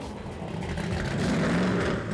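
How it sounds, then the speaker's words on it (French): A 1974 Dodge Charger race car at Le Mans Classic, its engine roaring steadily and building slightly in intensity, a close, continuous rumble throughout. "Cette Dodge Charger de 1974 par exemple, qui fait elle aussi partie de la légende du Mans."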